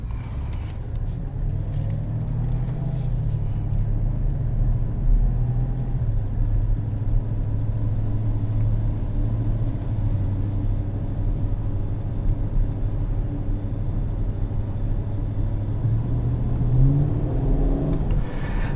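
A 2017 Chevrolet Silverado 2500HD pickup with a 6.0 engine idles at a raised, steady rev, producing a continuous deep throaty rumble and hum that holds close and loud throughout, with no talking.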